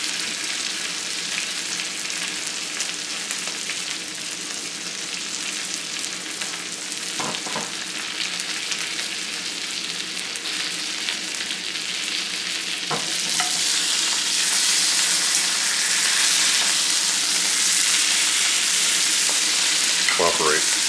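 A steak sears in a newly seasoned cast iron skillet, giving a steady loud sizzle throughout with a few utensil scrapes, the frying growing brighter and louder toward the end.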